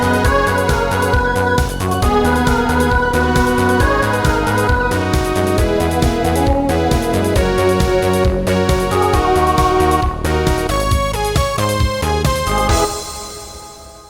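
Second opening theme of the anime Toradora, a loud full-band pop track with dense drums, bass and melody, moving through a sus4 chord resolving to the major tonic, ending on a ringing cymbal-like fade.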